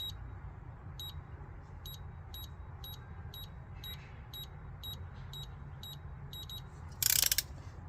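A wrench tightens the intake manifold bolts to spec on a 1984 Buick Regal during an LS engine swap, making a quiet, regular series of light ratcheting ticks, then a brief louder metallic rattle near the end, with no speech.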